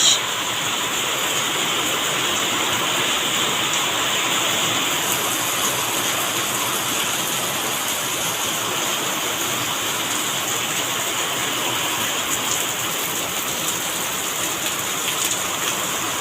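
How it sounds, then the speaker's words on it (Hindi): Steady rain falls outdoors among banana plants, a dense, even hiss of drops on leaves and surfaces continuing unbroken and fairly loud throughout, with no voices. "ये बारिश"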